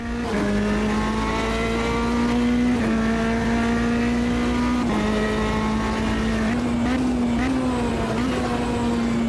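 A prototype race car in the Automobilista 2 sim gives a raw, continuous engine drone with spitting exhaust. The loud, steady tone rises and dips slightly through gear changes.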